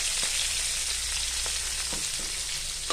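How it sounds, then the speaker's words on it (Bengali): Dry red chilies, bay leaf, chopped ginger and green chilies fry in oil left from frying potato and cauliflower, a constant close sizzle with faint stirring taps and no voices. "এগুলো একটু ভেজে নেব।"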